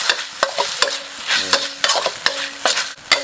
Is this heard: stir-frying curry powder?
yes